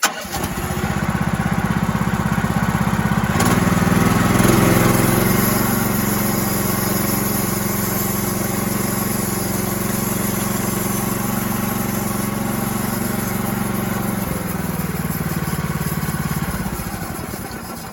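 A sawmill engine runs steadily and loudly for the whole stretch, pitching up as it takes load while the blade cuts tenons on wind braces, then easing back near the end.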